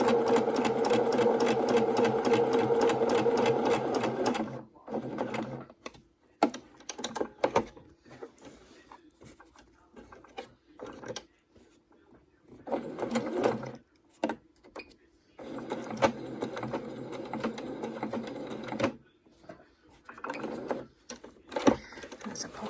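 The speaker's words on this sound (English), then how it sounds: "so I'm just going to stitch round about it to hold it in place" A sewing machine stitches a wire pocket into a fabric face mask, running in one long steady whirring stretch and then in short start-stop bursts with quiet gaps.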